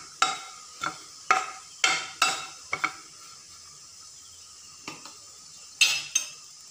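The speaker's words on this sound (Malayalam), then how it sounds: "അപ്പോൾ നമുക്ക് ഈ തേങ്ങ ഒന്ന് നല്ലപോലെ എല്ലാം ചുവപ്പാവുന്ന വരെ വറുത്തെടുക്കാം." Grated coconut being dry-roasted in a pan while a spoon stirs it, giving repeated scraping clinks of the utensil against the metal with a faint sizzle in between, moderately close, no voices.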